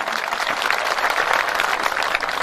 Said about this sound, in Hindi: एक बार जोरदार तालियां बजाकर बताइए कि आप सुन रहे हैं